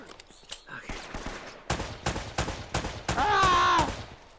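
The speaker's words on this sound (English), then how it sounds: "I just wasted a lot of bullets" Gunfire bursts in the Uncharted: Drake's Fortune action game, several sharp volleys spread across a few seconds with a brief tonal game sound near the end, loud and close.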